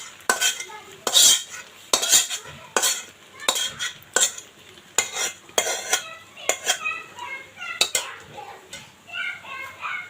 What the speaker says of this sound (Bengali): এখন মাংসগুলো দিয়ে আমি আর কিছুক্ষণ একটু চালটা ভেজে নেব।